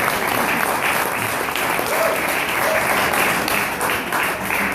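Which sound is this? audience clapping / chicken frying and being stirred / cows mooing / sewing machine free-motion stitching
audience clapping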